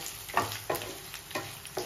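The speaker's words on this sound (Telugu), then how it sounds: "మిర్చి ఈ కలర్ వచ్చేదాకా వేయించుకోవాలండి" Dried red chillies frying in a pan for gongura chutney, with a spatula stirring them in four or five soft scraping strokes over a faint steady sizzle, close and quiet.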